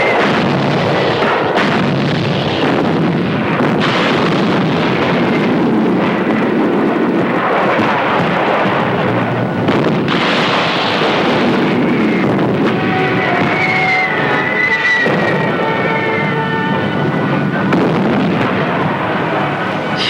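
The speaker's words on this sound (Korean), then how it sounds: "간단없이 들리는 아군포의 엄호 사격 소리를 방패 삼아" Wartime artillery covering fire, heavy guns booming repeatedly through the night in a battle scene, loud continuous rumbling blasts with irregular thuds and layered distant and nearer explosions.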